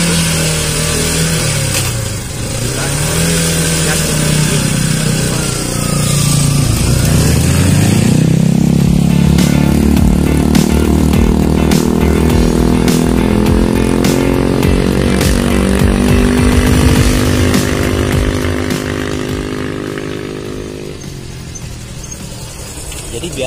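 A manual-clutch motorcycle engine idles, then the throttle is opened and the revs climb and hold steady in a loud, sustained whine before easing back down, with no talking over it.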